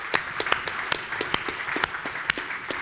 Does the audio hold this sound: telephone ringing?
no